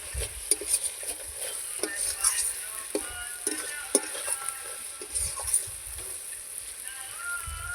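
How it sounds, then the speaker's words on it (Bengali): Spices with Kashmiri chili powder sizzle in hot oil while a spoon stirs and scrapes the pan in steady, repeated strokes, close and clear, with faint talk in the background. "মশলাগুলো খুব সুন্দরভাবে কষা হচ্ছে।"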